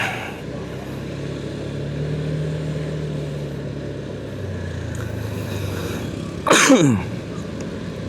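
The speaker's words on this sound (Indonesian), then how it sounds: "Sorry, batuk." A single sharp cough bursts out near the end from someone riding through heavy traffic on an alternate route in Tangerang Selatan, short and loud over a steady low rumble of road and engine noise.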